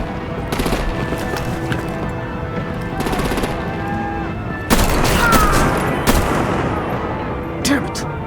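Artillery and automatic gunfire in a Batman video game, dense machine-gun bursts rattling continuously with a sharper, louder volley midway and blasts near the end, with voices speaking underneath.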